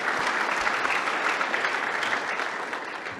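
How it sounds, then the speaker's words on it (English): Sustained audience applause at a 2022 executive keynote in Geneva, a dense, steady crowd of clapping hands that holds at an even level for the whole stretch and eases off slightly toward the end. "Big round of applause"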